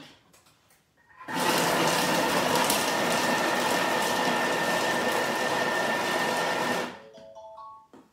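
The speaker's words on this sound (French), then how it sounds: "Et je vais mixer 5 secondes, vitesse 5." A kitchen food processor mixes for about five seconds at speed 5, giving a loud, dense, steady whirring roar that starts abruptly and cuts off, with faint beeps after it stops.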